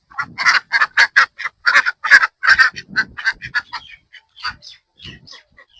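Domestic ducks in a village yard give a rapid series of close, loud, nasal quacks, about a dozen in a row, then trail off into fainter, sparser calls.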